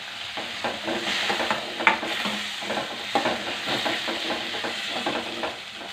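Chicken curry with coconut and tomato sizzles steadily in a hot pan while a spoon scrapes and stirs it, close and continuous, with occasional louder clinks against the pan.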